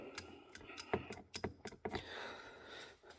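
A Cobalt ratchet wrench clicks in a series of sharp, close, irregular bursts, followed by a brief smoother whirring stretch, fairly quiet and with no talking.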